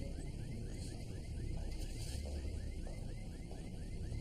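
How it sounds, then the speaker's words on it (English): A family car's alarm goes off outside at night, a faint repeating warbling siren pattern cycling steadily under a low rumbling wind-like background throughout. "Is that our car alarm?"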